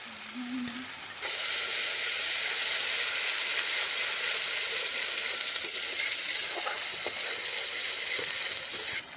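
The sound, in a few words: frying tomatoes in a pan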